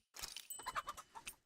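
A chicken from the Tales of Arise video game clucks in a quick series of bright, choppy bursts, close and clear with no voices over it.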